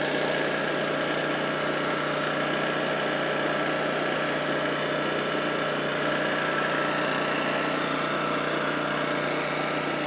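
A Honda EM650 portable generator, restarted after sitting 21 years and fitted with a new genuine air filter, runs steadily at a constant idle, a smooth continuous buzzing drone with no skips.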